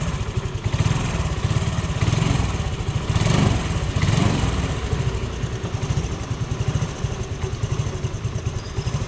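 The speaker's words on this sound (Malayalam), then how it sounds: "നമുക്ക് വണ്ടി ഒന്ന് സ്റ്റാർട്ട് ചെയ്ത് നോക്കാം കേട്ടോ." A used motorcycle with about 27,000 km on it idles steadily for the whole stretch, its engine thrumming in a fast, even, pulsing rhythm. The sound is loud and close, with no talk over it.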